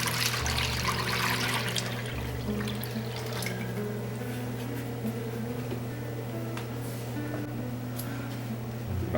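Strained tomato pulp poured from the extractor into a bowl: a steady, continuous wet pouring and trickling, close and moderately loud, with a low hum underneath throughout.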